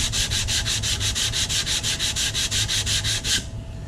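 Brisk back-and-forth strokes of 150 grit sandpaper across a composite fin form a rapid, even rhythmic scratching, loud and close, ending abruptly near the finish.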